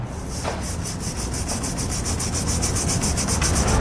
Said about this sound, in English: I'm just going to use a little lubricant and a tube brush to clean it out.